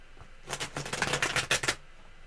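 A rapid riffling of tarot cards being shuffled, a close, papery flutter in quick bursts lasting about a second, with quiet room tone before and after.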